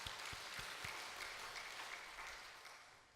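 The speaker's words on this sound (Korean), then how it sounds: "우리 모태신앙을 위해서 한번 박수해 주시기를 바랍니다." Congregation at a Wednesday church worship service clapping together, a steady, fairly faint wash of applause that tapers off toward the end, with no speech over it.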